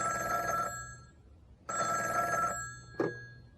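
A telephone rings twice with an electronic warbling tone, each ring lasting about a second, with a faint click after the second ring. It is heard alone in a quiet room just before a phone conversation begins.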